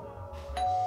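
A household doorbell rings once, with a brief two-tone chime that rises out of a quiet room.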